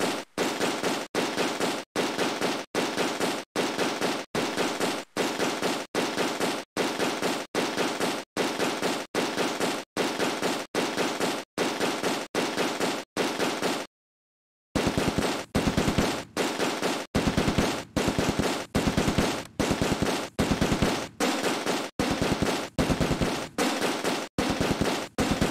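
American rifles and automatic weapons firing in the Close Combat war video game, dense rapid bursts of gunfire repeating in steady loud volleys, with one brief pause before the shooting resumes.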